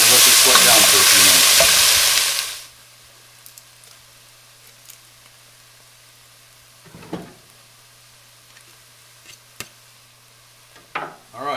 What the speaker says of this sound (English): Now we will throw our garlic in there and let this sweat down for a few